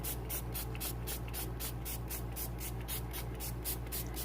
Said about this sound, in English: I forgot to spray it down with rubbing alcohol, so we're going to do that now